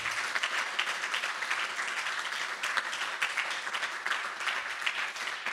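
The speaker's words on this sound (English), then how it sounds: "So I'd like everyone to give a hand of round applause to all the co-authors in the" An audience at a book launch on the science of wellbeing claps for the co-authors, producing a dense, even roll of applause from many people that holds steady throughout.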